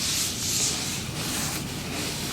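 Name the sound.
rubbing oil over a Blackstone griddle surface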